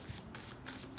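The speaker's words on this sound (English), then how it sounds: "Last shuffle, I'm going to take from the middle of the deck." Brian Froud Faerie Oracle cards being shuffled by hand, a close, continuous papery riffle in quick bursts with brief gaps between them.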